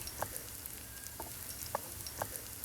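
Whole small garlic cloves frying in hot oil in a kadhai give a steady, faint sizzle, with a few sharp pops and crackles scattered across it and nobody speaking.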